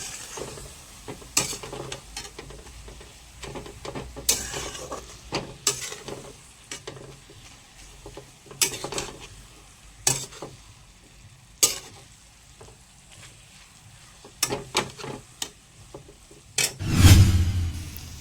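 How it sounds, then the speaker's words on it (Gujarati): Carrots roast in ghee in a pan for carrot halwa, with a gentle sizzle under frequent sharp scrapes and knocks of stirring, ending in a heavier clatter and sizzle burst close by. "અત્યારે ઘીમાં આપણે ગાજર શેકી નાખ્યા છે"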